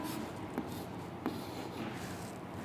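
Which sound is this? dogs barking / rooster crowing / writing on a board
writing on a board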